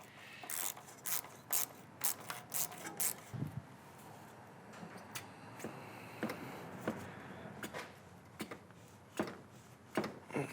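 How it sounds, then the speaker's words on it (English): An 8mm socket ratchet loosening a hose clamp on a Subaru WRX turbo inlet intake, a series of sharp clicking ratchet strokes in uneven bursts, close and fairly quiet, with no talking. "go ahead and loosen the hose clamp that holds in the bottom of your intake into the turbo inlet right there"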